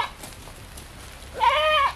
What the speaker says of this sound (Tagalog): Kambing, huwag ka maingay.